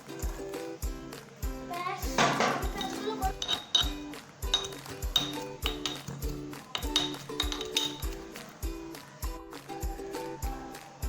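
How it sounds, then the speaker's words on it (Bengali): Roasted peanuts are crushed in a mortar and pestle: steady, rhythmic pounding thuds with bright metallic clinks, close up, while voices talk in the background. "ভাজা বাদামগুলো একটু ক্র্যাশ করে নেব হামাল দিস্তায়"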